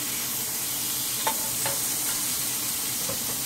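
Beef burgers sear in a hot pan just after flipping, giving a steady, even sizzle with a few faint clicks of a spatula, close and alone with no talk.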